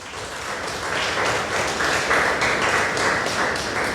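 A church congregation applauds, a dense steady wash of many hands clapping together, loud and sustained for several seconds with no pause.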